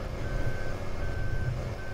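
Truck reversing alarm in Farming Simulator 2015, a steady series of evenly spaced high beeps over a low engine rumble, close and continuous without talk.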